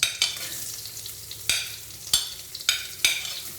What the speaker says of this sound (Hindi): ये सबसे पहले तो मैं डाल रही हूँ गाजर।